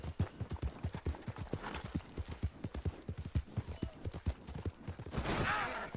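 Rapid rhythmic hoofbeats of a galloping horse in a video game, steady clip-clop for several seconds, ending in a rush of noise.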